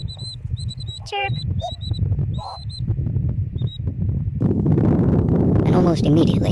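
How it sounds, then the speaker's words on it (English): A monal pheasant chick gives a few thin, high chirps over a low steady rumble of wind and ambient noise, and a fuller burst of chirping near the end. "Chirp."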